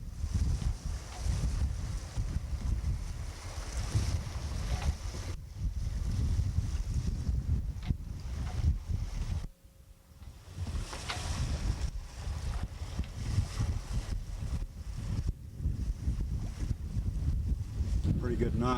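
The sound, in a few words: sailboat under sail, wind and water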